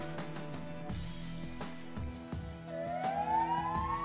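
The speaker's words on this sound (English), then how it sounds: "The emergency siren is tested regularly." An emergency siren at the Vaal Sanitaryware site sounds during a routine test. A steady rising wail climbs in pitch over the last second or so, above a busy hum of tones and background noise.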